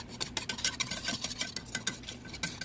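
A whisk beats a flour roux in a pan in quick, rhythmic scraping strokes, close and fairly soft, with metal ticking against the pan and no talking.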